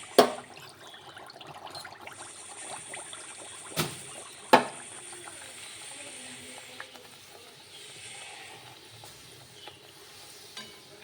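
Pea kachori fry in hot oil with a soft, steady sizzle and hiss, broken by a few sharp clinks and taps of a utensil, quiet and close.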